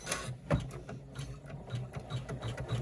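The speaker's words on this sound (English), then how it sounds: "And then we're going to resume step 8 to finish stitching this seam." An in-the-hoop embroidery machine stitches a seam on a woven strap crossbody or clutch bag, producing a close, steady, rapid mechanical chatter of needle strokes with slight rhythmic thumps throughout.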